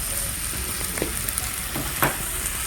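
Eggplant filling is stirred in a frying pan, a few soft scrapes over a constant faint sizzle, nearby and quiet, with no one speaking.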